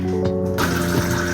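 Two cups of water poured into a blender jar with celery and greens, a short splashing gush filling the jar up close after a brief clunk.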